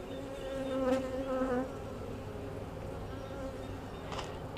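Honey bees buzzing around an open hive while a nuc is being installed, a steady droning hum with a louder swell of nearby bees early on, no talking.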